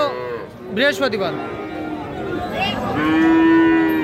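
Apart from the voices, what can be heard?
Friesian and crossbred heifer calves mooing at cattle market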